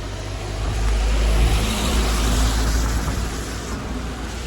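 A car drives by on a road in Poland, followed by another. The steady rumbling swell is loud and close, rising and then easing off, with no one talking.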